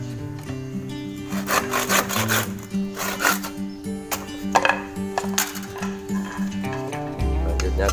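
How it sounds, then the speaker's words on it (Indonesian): A hand saw cuts through bamboo for an angklung repair, making steady back-and-forth rasping strokes that run close and loud for several seconds, with a low steady hum underneath. "pakai gergaji."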